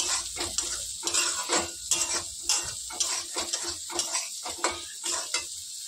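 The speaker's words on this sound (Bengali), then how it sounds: "সুজিটা আরেকটু লাল লাল করবো, প্রায় ভাজা হয়ে গেছে" Semolina dry-fries in a pan while a spoon stirs it in a quick, regular scraping rhythm, each stroke ticking against the metal over a soft, close sizzle, with no talking.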